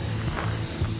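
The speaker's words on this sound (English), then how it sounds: "And we'll put it in, and we'll spray the inside of it." Short bursts of spray hiss inside a Lonestar insulated vertical smoker during seasoning, repeating in quick pulses close up over a steady background hiss.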